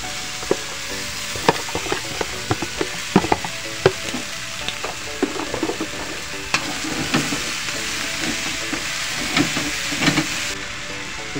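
Jicama and onions sauté in a frying pan for ngohiong filling, giving a continuous loud sizzle broken by repeated sharp scrapes and clacks of stirring, with no talk.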